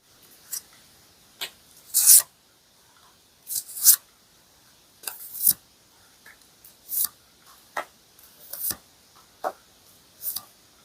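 Tarot cards being handled and shuffled at close range: a dozen or so brief, crisp slides, flicks and snaps spaced irregularly over near silence, with no talking.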